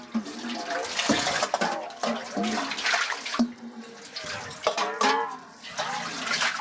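Water runs and sloshes in a cooking pot as crabs for a coconut-milk dish are rinsed, a steady broadband splashing with irregular swells and knocks that continues for several seconds, close and fairly loud.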